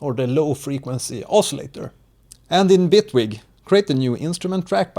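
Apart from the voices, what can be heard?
No everyday noise stands out behind the speech.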